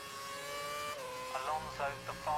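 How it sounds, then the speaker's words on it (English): Onboard V8 Formula 1 car engine: a sustained high, harmonic whine that drops in pitch midway, with a voice talking over the latter half. "I do not like the sound of V8 F1 cars on board."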